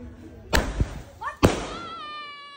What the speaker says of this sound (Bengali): নাচ গান শেষে সব শেষে বাজি ফুটিয়ে শেষ করলাম।